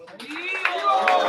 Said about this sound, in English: give it a big Hari Bol and clapping for Bhagyashree Mataji